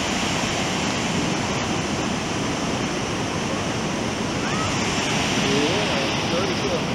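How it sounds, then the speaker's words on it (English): A large waterfall at Cumberland Falls State Park in January gives a steady, loud broadband roar that never lets up, with faint voices barely audible beneath it. "Look at the waterfall."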